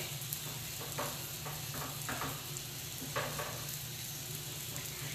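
Chorizo and its fatty juices sizzling and simmering with broccoli and cauliflower in a pan, a steady close fry with a few scraping stirs, no talk.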